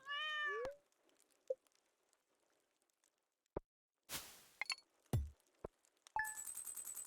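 A cat in the Stardew Valley video game gives a short bright meow at the start, followed by sparse game sound effects, a few clinks and a chiming jingle toward the end, with no talking.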